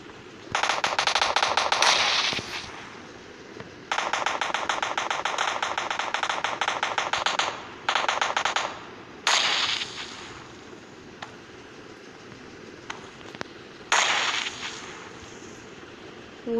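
Rifle fire in the PUBG Mobile Lite game, Kar98 rifle among it, loud sustained bursts of rapid shots broken by gaps and a few single cracks over a steady background hum, with no talking.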